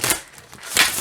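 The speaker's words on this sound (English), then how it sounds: "you can shuffle it this way" Oracle card deck being shuffled by hand, two quick papery riffles about seven-tenths of a second apart, close and soft.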